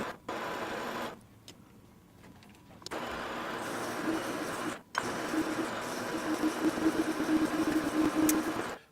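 A metal lathe turns a drill adapter down to size, giving off a steady mechanical whir with scraping cutting noise that stops briefly twice and then resumes, fairly quiet and close.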